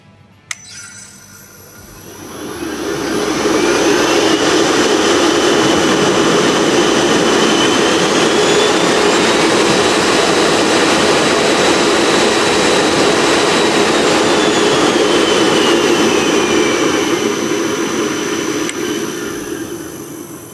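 An AIRWORX 55T blower spins up and runs with a loud, steady roar and a high whine, holding level for most of the stretch before easing off near the end, with no talk.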